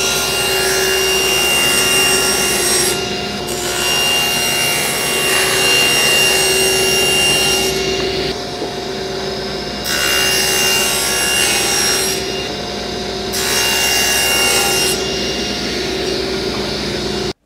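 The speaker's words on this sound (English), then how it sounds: "Let's cut some wood, cut some strips." A table saw rips wood into strips, its motor whine holding steady and loud throughout while the blade pushes through the stock in several long passes, the pitch dipping briefly with each cut.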